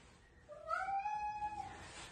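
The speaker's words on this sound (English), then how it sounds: "by the way, that's our cat, Gio." A shy house cat lets out one clear, drawn-out meow, rising and then falling over about a second, close and moderately loud against a quiet room.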